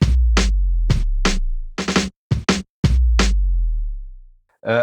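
Yamaha RS7000 drum machine kicks layered with a long, booming sub kick that rings out between sharper hits, loud and close in a slow pattern.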